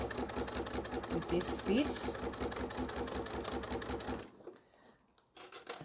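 A sewing machine runs a quarter-inch seam with rapid, even mechanical stitching for about four seconds and then stops, while a person speaks over it.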